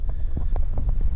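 Blustery wind buffeting a GoPro microphone inside a homemade wind muff at the beach, producing loud, continuous low rumbling with irregular gusty thumps and no speech.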